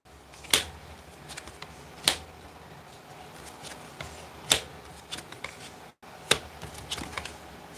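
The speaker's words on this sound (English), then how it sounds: "Give a good shuffle." Tarot cards being shuffled by hand, heard as a handful of sharp riffling bursts spaced a second or two apart over soft, quiet rustling, close up with no talking.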